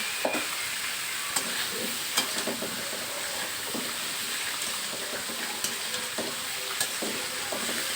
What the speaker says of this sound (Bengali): এরপরে আমি ফুলকপি আর আলুটা দিয়ে দিলাম দিয়ে আমি একটু নেড়ে নেব